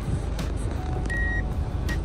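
A car backing in through the gate of a home, with a steady near engine rumble and a few thin electronic reversing beeps; no one speaks.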